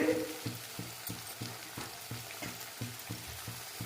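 Onions, green chillies and curry leaves fry in hot oil for chicken curry, a steady close sizzle broken by regular rhythmic scrapes of a spatula stirring the pan about twice a second.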